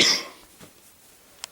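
One sharp, loud cough at the start, then fainter breaths and small throat sounds that trail off, with a brief click near the end.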